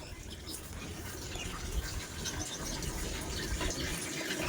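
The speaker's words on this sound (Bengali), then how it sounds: "উঠে কি বাথরুমের মধ্যে জল ঢালছে এখন নাকি?" Water pouring and splashing steadily in a bathroom while clothes are washed, a continuous rushing gush at moderate distance with no voices.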